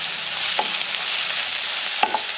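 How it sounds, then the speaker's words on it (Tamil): Onion and ginger garlic paste sizzling steadily in a pan while being stirred for a spicy Tamil-style crab fry, with a few soft clinks of the spoon against the pan. "இஞ்சி பூண்டு பேஸ்ட்டு போட்டு நல்லா வதக்கணும்."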